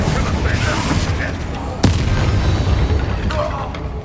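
A Confringo fire spell explodes in the Hogwarts Legacy video game, one sharp close boom cutting through a dense, continuous bed of loud battle noise.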